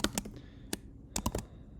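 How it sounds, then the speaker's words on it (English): Python code being typed on a Mac computer keyboard, a few sharp, close key clicks in an uneven rhythm with quiet gaps between. "So if we type any Python code, we can run it."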